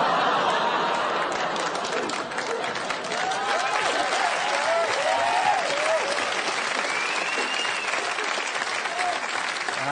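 Studio audience applause fills the stretch as a steady, dense wash of many hands clapping, with scattered chuckles and murmured chatter mixed in.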